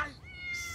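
A cat gives a single short meow, quiet and close, with a brief squeaky onset that opens into a drawn-out whiny tone.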